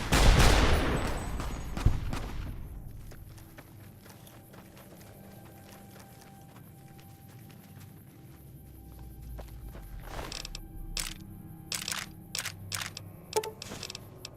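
Riot shotgun gunfire from the video game Fallout New Vegas: a burst of loud blasts opens, then quieter stretches, and a rapid cluster of sharp shots returns near the end.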